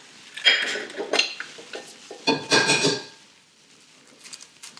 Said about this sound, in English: So then I have to add the eggs. 5 eggs.